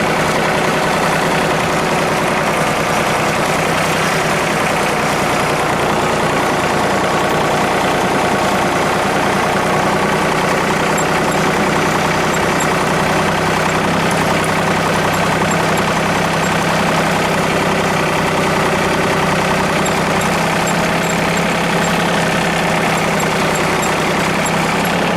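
A John Deere 2032R tractor idles on a cold winter morning, its engine holding a loud, steady, rough rumble throughout with no talking.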